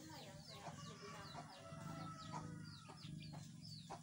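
Farm chickens cluck in repeated short calls, fairly close, over a constant background hum, with faint voices talking at moments.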